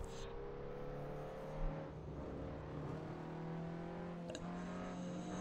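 A steady Nissan Pulsar engine in the racing game Assetto Corsa drones at constant revs, holding a sustained tonal hum with a brief bump in loudness partway through.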